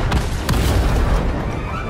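A loud, sustained booming blast from a Fortnite end-of-season event, dense low rumble filling the full two seconds with no talk over it.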